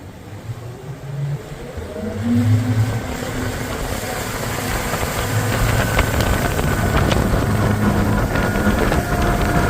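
A Skeeter bass boat's outboard motor runs loud and steady on Clear Lake, California, building slightly as it goes, with wind and water rush filling the background.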